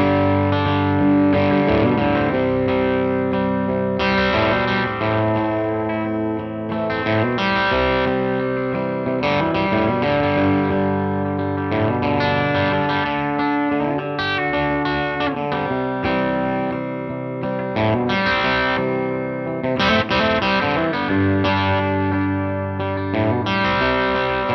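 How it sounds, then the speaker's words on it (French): Electric guitar, a Gibson SG Junior with a P90 pickup, played through an N.C. Tone Factory overdrive pedal, giving sustained distorted chords and riffs with a steady, loud presence and no talking throughout. "Ce que je vous propose, c'est de l'écouter maintenant avec notre SG Junior et son P90"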